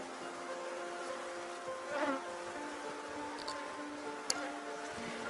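Honeybees buzz steadily at an open beehive during a hive inspection, a dense close drone of many wings with a few louder passes near the microphone.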